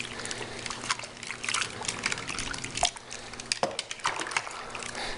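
Soapy water trickles and splashes in an uneven stream while a sprinkler head is washed, with occasional louder drips and sloshes up close.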